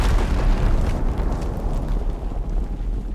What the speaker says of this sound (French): Par contre c'est stylé l'explosion.